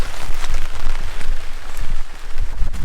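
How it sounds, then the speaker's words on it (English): Scattered first drops of rain patter on surfaces at a public-land hunting camp in New South Wales, Australia, a dense close crackle of hits with no talking. "First few drops of rain."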